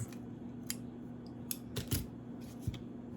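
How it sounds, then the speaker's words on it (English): Scissors snip through a small Halloween craft embellishment meant for socks, a few quick, crisp cuts close by over a steady low hum, with no talking. "I'm going to cut this off, and then we're going to glue this to our little socks."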